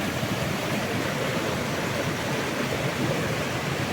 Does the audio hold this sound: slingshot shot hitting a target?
no